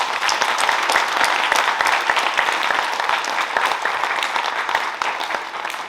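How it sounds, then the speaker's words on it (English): Loud, dense applause from a school TED Talk audience thanking the light, audio and camera crew, continuous close clapping that holds strong and tapers slightly toward the end. "Give them a huge round of applause."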